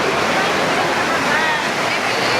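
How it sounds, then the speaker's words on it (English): Heavy rain pours down outside at a livestock stock show, a dense, constant loud hiss with no break. "it is pouring down outside"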